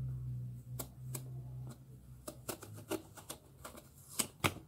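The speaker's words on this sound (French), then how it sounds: "Donc voilà, j'ai épluché les aubergines." Aubergines are peeled by hand, giving a quiet series of short, sharp scraping strokes in an uneven rhythm, close by and growing more frequent toward the end.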